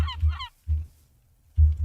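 Seagulls in a modded Minecraft world give a few short, honking calls, three low bursts spaced apart with a brief squawk at the start, with no talk.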